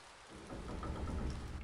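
Video game rain and thunder in Fleuret Blanc: a steady wash of rainfall swells as a low, rumbling roll of thunder builds beneath it, with no voices.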